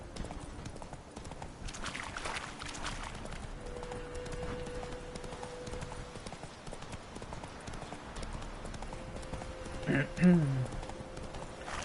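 Roach the horse trotting in The Witcher 3, a steady clip-clop of hooves running through the whole stretch, with a brief louder thump near the end and someone talking intermittently over it.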